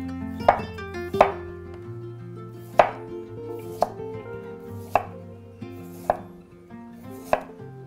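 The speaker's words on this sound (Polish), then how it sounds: "I także buraki kroję w cienkie paski." A kitchen knife slices beetroot into thin strips on a cutting board, with sharp, evenly spaced chops over soft background music.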